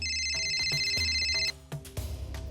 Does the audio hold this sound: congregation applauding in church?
no